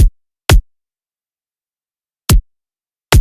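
Kick drum transient sample from Serum 2, four short punchy thumps separated by silence, loud and dry with a deep low-end body.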